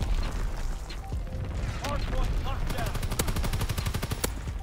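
Rapid automatic gunfire from a DLC weapon in Call of Duty WWII, a fast run of sharp, evenly spaced shots in the second half, with earlier scattered shots and game effects and a player talking over it.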